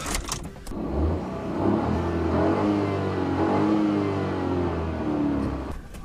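A new 2014 car's engine starts and revs up, a steady mid-range hum with rising and falling pitch as it accelerates, close and loud throughout, with no talking over it.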